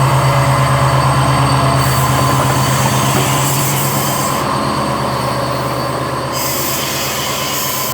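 The Banglabandha Express rumbles steadily through Natore station, its wagons rolling past close and loud with continuous heavy rail noise and faint wheel squeal, no voices present.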